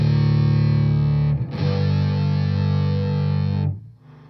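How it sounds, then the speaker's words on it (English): Electric guitar played through an EHX POG 2 octave pedal with the upper octaves removed, giving a thick, loud, sustained rock tone: a long chord held, briefly broken, then restruck and held before cutting off. "we just want to give you a sort of rock thing, so we take out the upper octaves"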